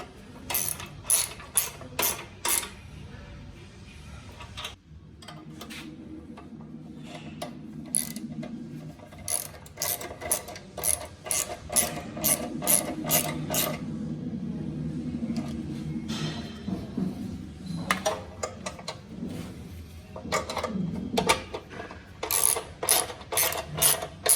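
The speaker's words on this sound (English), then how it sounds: "Tighten the bolts in the skid plate, 5 millimeter Allen key and 13 millimeter wrench." A 13 mm wrench and ratchet tighten skid plate bolts on a Honda CB500X motorcycle, giving runs of close rapid clicking separated by brief pauses and softer mechanical rattling.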